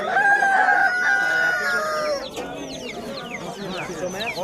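Japanese bantam chickens crow at a poultry market, with a clear, nearby rooster crow opening and then fading into a busy mix of clucking, chirping birds and market chatter.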